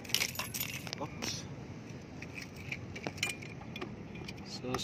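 Keys jangle and clink near the emergency seat lock of a keyless Yamaha Sniper 155 motorcycle with a low battery, in several short metallic bursts while someone talks softly.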